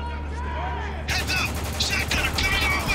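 Gunfire in the video game Spec Ops: The Line breaks out after a quieter stretch of low rumble, with a burst of rapid shots that sounds close and busy; a voice shouts partway through.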